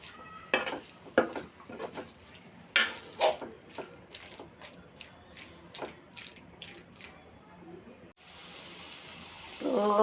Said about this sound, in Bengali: এবার দিয়ে দিচ্ছি আগে থেকে ভেজে রাখা সয়াবিন। নেড়ে ছেড়ে ভালোভাবে কষিয়ে নিব।